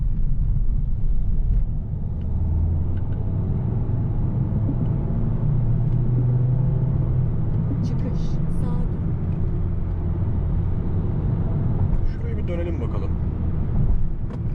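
A 2024 Citroen Berlingo 1.5 Blue van drives on a motorway, giving a steady loud low rumble of engine and road noise that continues throughout while someone talks over it.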